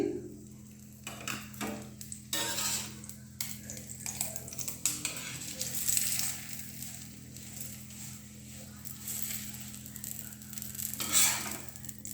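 A paratha fries in ghee on a hot tawa, crackling and sizzling steadily with bursts of scraping and stirring as it is worked and turned, heard up close.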